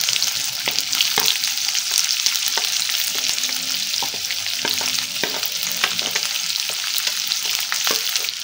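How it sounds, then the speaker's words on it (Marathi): Chopped onion sautéing in a pan with cumin seeds, curry leaves and asafoetida for stuffed okra, a steady close sizzle and crackle with scattered stirring clicks throughout, no talking. "कांदा छान असा परतून घ्यायचा."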